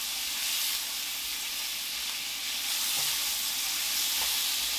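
Meat sears in a pot over high flame as the first step of Texas chili, giving a steady, close sizzle and hiss that runs unbroken throughout with a few faint clinks.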